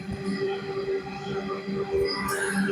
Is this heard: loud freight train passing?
yes